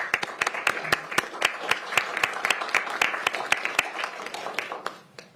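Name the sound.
council meeting audience applause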